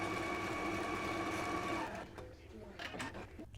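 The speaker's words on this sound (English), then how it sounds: "We're going to start there and stitch down to the hem and leave the opening above the large circle open." A domestic sewing machine runs steadily for nearly two seconds, stitching the back piece of an easy summer top toward the hem, then stops and only quieter handling sounds follow, with some talk alongside.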